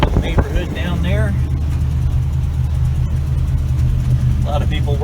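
Lifted 1977 Chevy K20 truck engine drones steadily at close range while driving through a neighborhood, a continuous low rumble with a voice talking over it at the start and end.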